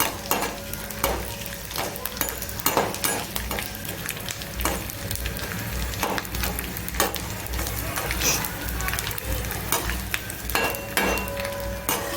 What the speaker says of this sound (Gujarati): બે ચમચી ઘી ગરમ મૂક્યું છે તો હવે આપણે ગુલ તળી લઈશું